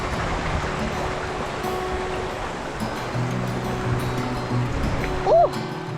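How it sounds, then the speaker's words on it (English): Running water of a stream along a relatively flat Maui hiking trail, a steady broadband rush throughout, with a brief whistle-like chirp near the end. "True to its name, you will be crossing the stream many times."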